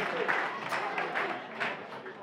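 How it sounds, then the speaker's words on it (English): A crowd at a kickboxing event claps and cheers in a short, dense burst of applause, with voices mixed into the noise. "So a big round of applause for both Amy and Andrew."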